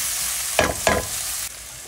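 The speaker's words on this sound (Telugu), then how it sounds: "శుభ్రంగా ఒకసారి కలపాలి." A potato and pea samosa curry fries in a pan with a steady hiss, while two quick scraping stirs of the thick filling stand out close by, with no talking.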